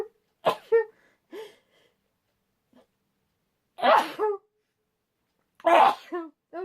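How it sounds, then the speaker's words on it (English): Several sharp, explosive sneezes burst out one after another with quiet gaps between, close and loud, each followed by short breathy vocal tails. "I'm going to sneeze."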